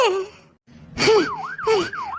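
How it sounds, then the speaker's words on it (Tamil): A cartoon ambulance siren wails in rising and falling sweeps, repeating several times in quick succession after a brief pause, loud and close. "என்ன ஆம்புலன்ஸ் சத்தம் இங்க கேக்குது?"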